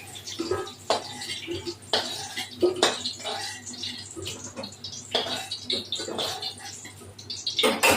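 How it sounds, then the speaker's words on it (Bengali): Fried potatoes being lifted out of a cooking pan, with scattered metal utensil scrapes and clinks against the pan over a low background hum. "এবার দেখো আমি আলুটা ভেজে ফেললাম, আলুগুলো তুলে ফেলবো।"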